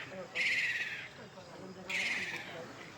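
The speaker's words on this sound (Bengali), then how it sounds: "এদিকে হুটুম পেশা ডাকতেছে কোথায় যেন" An owl calls somewhere near a river, two drawn-out hooting calls about a second and a half apart, fairly faint against outdoor background noise, with someone speaking quietly.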